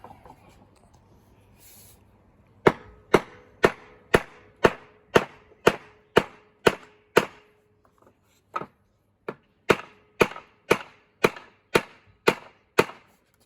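Wooden pegs are hammered into the holes of a handmade wooden boot rack: a long run of sharp, evenly spaced blows, close and loud, a brief pause, then a second steady series of strikes.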